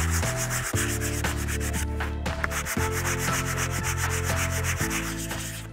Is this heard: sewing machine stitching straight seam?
no